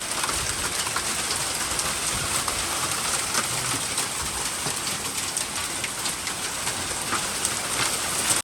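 Hail pours down steadily outdoors for several seconds, a dense continuous hiss and patter with scattered sharper impacts, fairly loud and unbroken, with no voices.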